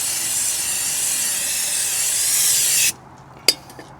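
Brake cleaner sprayed onto a Ford Fiesta's brake discs, a loud steady aerosol hiss lasting about three seconds before cutting off abruptly, followed by a couple of small clicks.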